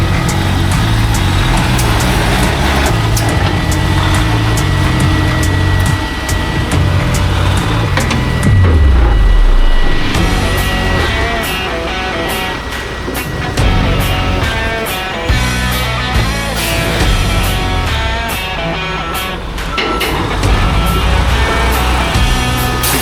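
A truck delivering trusses reverses a long way with one side in the woods, its engine rumbling steadily up close, with clanks and rattles throughout and a deep surge of revs partway through.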